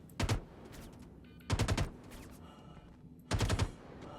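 Automatic gunfire in the space game Star Citizen comes as three short, loud bursts of rapid shots, spaced about 1.5 seconds apart, with quieter gaps between them.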